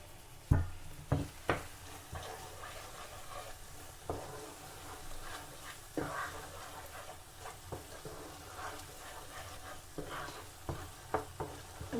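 Garlic sizzling in hot oil for garlic pickle, stirred steadily with a spoon; a soft continuous fry crackle runs under repeated scraping strokes against the pan, no voices.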